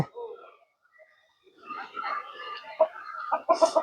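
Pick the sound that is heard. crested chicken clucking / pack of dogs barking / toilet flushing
crested chicken clucking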